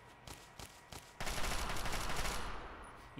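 Gunshots in Fallout 3, a few separate sharp cracks followed by a sustained burst of rapid fire that fades away near the end.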